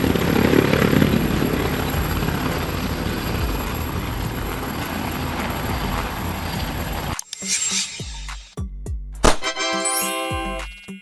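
An ambulance medevac helicopter thrums loudly and steadily for about seven seconds, then gives way to short chiming electronic tones and bright jingling sounds.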